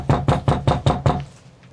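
Six quick, evenly spaced knocks rap on a door, close and firm, then stop abruptly with no talk over them.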